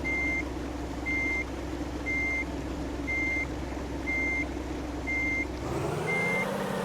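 A truck's reversing alarm in a video game beeps in an even, repeated rhythm over a low engine rumble, seven beeps in all, with the engine note shifting near the end.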